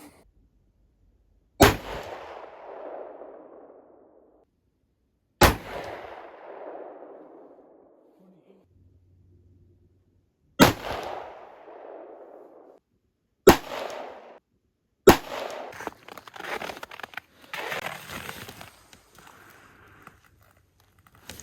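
Five sharp rifle shots from a 6mm ARC fired outdoors, each a loud crack with a decaying echo, spaced several seconds apart, the last one followed by rustling and handling noise.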